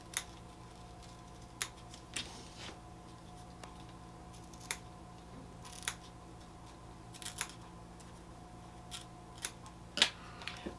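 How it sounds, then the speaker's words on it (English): Scissors trim excess fabric from around an embroidery patch still held in its hoop, giving sparse, sharp snips spread out over a quiet, steady background hum. "And just go all the way around, trimming away the excess fabric."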